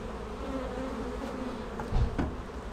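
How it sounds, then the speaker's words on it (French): Honeybees buzz steadily around the entrance of an active hive with pollen coming in, a continuous soft drone with a brief louder pass near the end and no talking. "On voit qu'il y a une belle activité au niveau de cette ruche. Le pollen qui rentre, c'est toujours bon signe."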